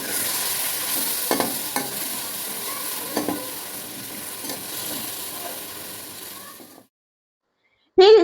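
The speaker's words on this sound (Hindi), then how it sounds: "जब प्याज गोल्डन फ्राई हो जाए तो इसमें 3 अदद चॉप किए हुए टमाटर डालकर भूनेंगे" Onions and chopped tomatoes fry over a low flame as a spoon stirs and scrapes the pan, giving a steady sizzle with a few sharp knocks. The sound cuts to silence near the end, then a brief loud burst follows.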